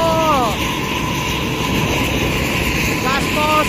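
A Sumber Jaya bus at full throttle gives a loud, steady engine roar close by, with horn-like tonal notes at the start and near the end.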